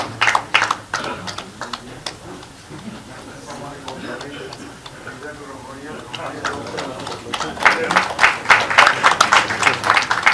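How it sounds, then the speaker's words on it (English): Audience applause in a hall at an India–UK ceremony, scattered claps that thin out under a speaking voice and then swell into fuller, rhythmic clapping near the end. "The hall must resound with the sound of claps"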